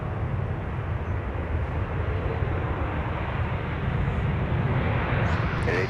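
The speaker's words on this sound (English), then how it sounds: "737-900ERs on this particular flight today from Chicago O'Hare." Steady, loud broadband roar of a Boeing 737-900ER airliner at Minneapolis–Saint Paul airport, a continuous jet engine rumble that holds at a constant level throughout with no talk.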